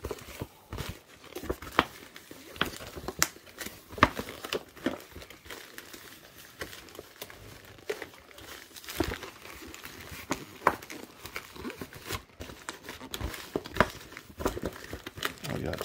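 A plastic flat rate shipping envelope is sealed by hand, producing continuous close crinkling and rustling with sharp crackles scattered throughout.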